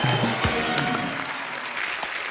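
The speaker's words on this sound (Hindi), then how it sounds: "एक बार मिस्टर मनोज वाजपेयी के लिए जोरदार तालियां हो जाए।" A television comedy studio audience breaks into applause, a loud, dense clatter of clapping that carries steadily from start to finish.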